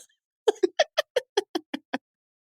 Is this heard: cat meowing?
yes